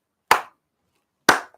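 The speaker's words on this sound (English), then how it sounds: "can you explain your 3 claps?" Two sharp, close hand claps about a second apart, each with a quick bright decay, in an otherwise quiet room; no one speaks.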